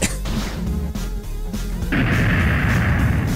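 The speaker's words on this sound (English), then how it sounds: "Let's use Ultimate Firestorm." Fire magic spell in a Final Fantasy video game, with a loud crackling, booming blast of explosions that thickens into a roaring burst of fiery noise partway through, with no talk.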